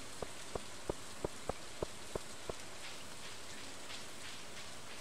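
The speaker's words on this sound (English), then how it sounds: "It's raining, man." Steady rain falls in the farming video game Stardew Valley, a soft continuous hiss under a short series of evenly spaced, distinct plinking drops at the start.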